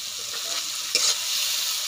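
Fish curry with mustard paste fries in a pan, a bright continuous sizzle broken by two quick stirring scrapes, close and fairly loud.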